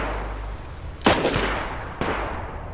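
Two sharp AK rifle shots in the video game DayZ, about a second apart, loud and close with a short decaying tail over low background rumble.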